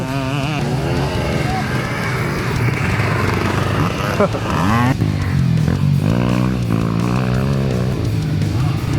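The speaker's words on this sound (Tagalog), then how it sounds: "Ang lalakas ng mga motor nila." Motocross engines at a race roar and rev loudly, pitch climbing and dropping as bikes pass, with a crowd and voices talking over the racket.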